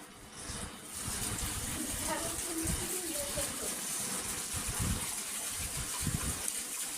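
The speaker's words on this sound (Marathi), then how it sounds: "आता कॅनचं पाणी आणलं आणि टाकणं सुरू आहे." Water poured from a can in a cattle shed, a steady gushing splash that begins after a brief quiet moment and runs continuously, with low thuds mixed in and faint voices in the background.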